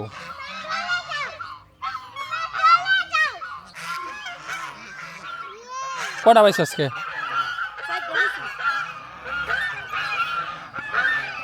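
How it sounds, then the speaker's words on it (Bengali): Chinese geese honk repeatedly by a farm pond, a loud, close flock of overlapping calls, with a person briefly speaking among them. "এটা কোন হাসে চীনা হাঁস"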